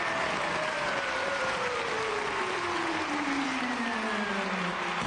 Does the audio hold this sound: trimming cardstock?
no